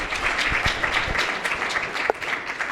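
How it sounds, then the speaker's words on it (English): An audience claps together for a few seconds at a live refugee health talk, a dense, steady burst of applause that stays even throughout. "You can applause again. That'd be nice."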